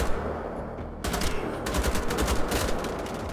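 Automatic gunfire in the video game Wolfenstein: The Old Blood: a loud, rapid stream of shots that briefly thins, then resumes in fast regular bursts for the rest of the short stretch.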